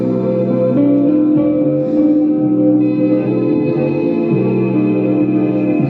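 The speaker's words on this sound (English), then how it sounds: "sound is actually a note with a huge reverb" A guitar note from an album rings out drenched in a huge reverb. It is loud and continuous, a sustained wash of tone that slowly shifts pitch, with no talking.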